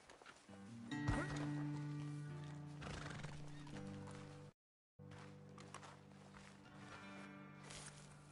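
Horses in Red Dead Redemption 2 give a loud, close whinny over the clip-clop of hooves and tack, with a brief silent gap before the stamping and movement continue.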